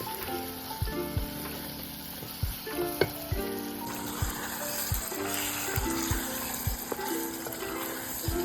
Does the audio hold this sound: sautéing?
yes